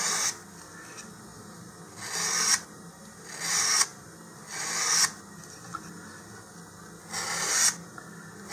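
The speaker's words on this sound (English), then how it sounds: "We're just taking the gloss off of the glassine coating on the cardboard." Sandpaper scuffs the glossy glassine coating off a cardboard body tube for an Estes Baby Bertha model rocket, producing five rasping strokes that each swell and then cut off, steady and close, with no talking.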